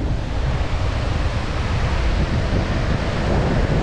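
Ocean surf washing up on the beach at Arraial do Cabo as the tide comes in, a steady, loud broadband wash of breaking waves close by with some wind buffeting the microphone and no voices.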